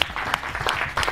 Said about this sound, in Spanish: Fuerte el aplauso a todas estas reinas que ya llegaron.